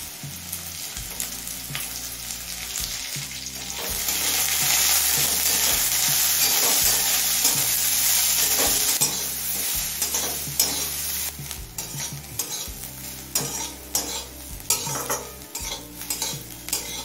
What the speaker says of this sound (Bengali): শিমটা দিয়ে আরো 2-3 মিনিট ভেজে নিয়েছি